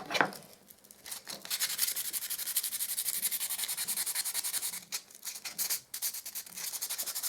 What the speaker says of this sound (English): I'm going to be using some wet and dry P320, but I'm actually just going to use it dry and just give them a good sand